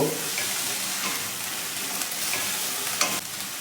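Ginger-garlic paste and green chili paste fry hard in a pan for posto chicken as they are stirred constantly. A loud, dense sizzle runs without pause, with a few scraping clicks near the end.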